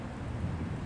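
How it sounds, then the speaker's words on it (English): Deep thunder rumbles through a gathering storm just before heavy rain, a low, steady roll that holds evenly for under a second with no voices over it. "Y'all hear that thunder?"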